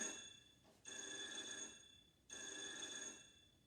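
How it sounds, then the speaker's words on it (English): Two long rings of a telephone bell, each lasting about a second and a half with a short gap between them, heard faintly on their own. "Oh, the phone's ringing again."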